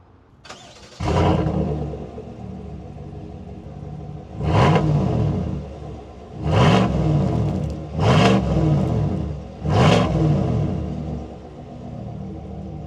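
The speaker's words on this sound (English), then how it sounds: "So this truck also has the active exhaust equipped with this, so let me go ahead and start this truck up so you see how this" A 2026 GMC Sierra 1500 AT4X pickup with active exhaust cranks and fires up, then four loud, close revs rise and fall in steady succession over a rumbling idle.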